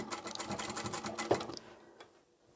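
Sewing machine running a triple stitch along a fabric book bag seam, a fast rhythmic mechanical chatter that stops after about a second and a half, followed by a single faint click.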